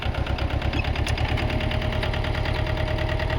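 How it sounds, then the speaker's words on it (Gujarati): A Mahindra Jivo 225 4x4 tractor engine runs steadily while pulling a harrow through farm soil, a close, continuous mid-pitched throb with rapid regular pulsing and no speech. "મહેશભાઈ ટ્રેક્ટર હકાલી રહ્યા"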